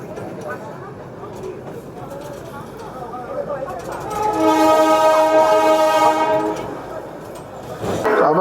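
The Darjeeling toy train rumbles along on a joy ride, its horn sounding one long, loud, tonal blast partway through over the steady rolling noise of the carriages.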